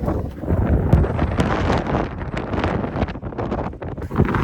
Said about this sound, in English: It is just extremely windy.